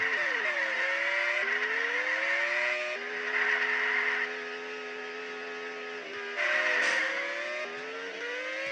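Race cars in the video game Unlimited Racing 2D produce droning, electronic engine whines that glide up and down in pitch, with layered cars overlapping and swelling louder at moments.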